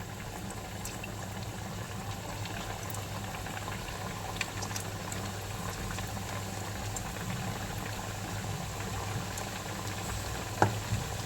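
Mathri frying in hot oil over a medium flame, a continuous dense bubbling sizzle at moderate level, steady with no talk.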